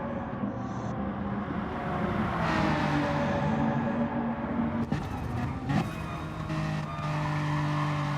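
Race car engine from a sim racing game rounding turn 7 toward the Schumacher S's, a steady loud drone with shifting pitch, brief tire squeals and bumps partway through, no talk.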